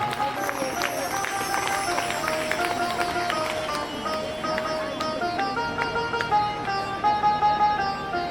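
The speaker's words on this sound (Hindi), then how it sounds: "आप लोग जोरदार तालियों से स्वागत करें" Audience applause welcoming a guest at a formal ceremony, a sustained, moderately loud patter of many hands with a tonal musical background underneath.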